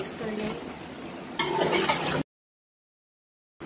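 Fried onions with ground biryani masala are stirred in a pan for Karachi-style nalli (bone marrow) biryani, giving a close, steady scraping sizzle that grows louder midway, then cuts to silence.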